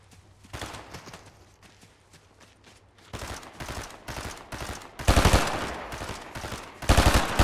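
Video game gunfire rattles in rapid bursts, sparse and quieter at first, then growing louder and denser into sustained automatic volleys near the listener.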